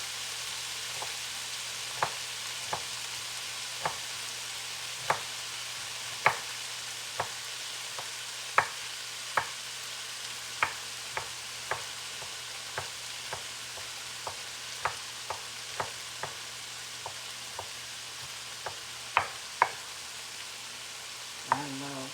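A garlic clove fries with Brussels sprouts in a pan, giving a steady broadband sizzle under a low hum, punctuated by regular sharp taps and clicks of a utensil against the pan.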